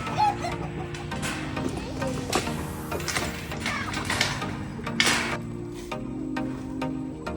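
Hens clucking and fussing in a busy backyard aviary, with a mix of other animal noises, shuffling and clatter close by.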